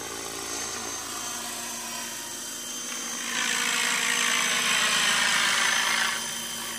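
Helicopter flying near Rabbit Island, a continuous whining rotor and engine drone that swells louder midway and then eases back, with no talk.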